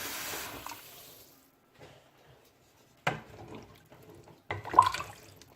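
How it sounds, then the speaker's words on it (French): Water poured into an 8-litre cooking pot for couscous: a rushing splash that fades out, followed by a few short bursts of pouring and trickling, fairly close and moderate in loudness with no talk. "Je mettrai quand même de l'eau."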